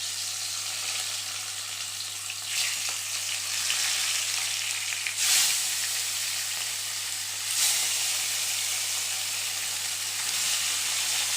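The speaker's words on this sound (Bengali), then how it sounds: "ফার্স্টে আমরা এক একটা করে মাছ দিয়ে দিচ্ছি এখানে" Katla fish pieces frying in hot oil, a loud, continuous, broadband sizzle with a couple of brief surges as pieces are moved, plus a low steady hum underneath.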